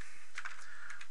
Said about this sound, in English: I'm just hitting the keyboard randomly.